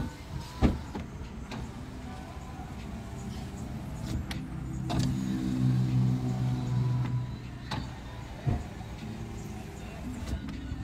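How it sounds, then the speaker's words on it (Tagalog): A power window on the second door of a Mazda Flair whirs as its motor runs for a couple of seconds in the middle, framed by scattered clicks and thumps from the car. "Power window ang kanyang second door."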